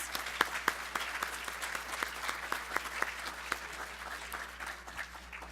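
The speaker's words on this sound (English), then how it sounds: "Let's give another round of applause for all of our award winners." Audience applause for award winners at a State of the Workforce event: sustained, moderately distant clapping from a crowd with dense irregular claps, steady throughout.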